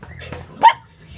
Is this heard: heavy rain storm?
no